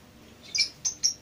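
Songbird in breeding condition giving three short, high chirps in quick succession over a faint background hum.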